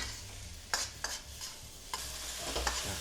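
Rice with fermented pork sausage being stir-fried on high heat, stirred and scraped in a hot pan, with soft sizzling and repeated clanks of a spatula against the metal, no voices.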